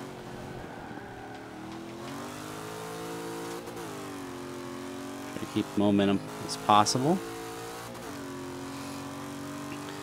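A Chevrolet Camaro Z28 D-class race car in the video game Forza 5 holds a steady engine drone, then revs up and shifts through the gears. Tire squeals come in bursts partway through, and someone talks over it throughout.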